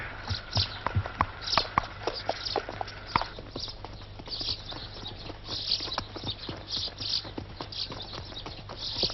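A horse's hooves clip-clop on hard ground as it is led near a ramp at a stud farm, steady uneven footfalls close by with mechanical clinks and rattles mixed in, no speech.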